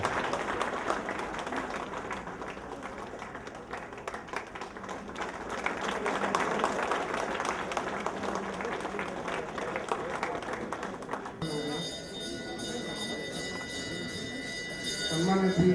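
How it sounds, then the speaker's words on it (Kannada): Sustained audience applause at an awards ceremony honouring a second-rank holder in the NDA oral personality test, a broad wash of clapping for about eleven seconds before the sound shifts to a more tonal, echoing hall ambience with voices. "ಇವರಿಗೆ ಒಂದು ಭಾರಿ ಚಪ್ಪಾಳೆ"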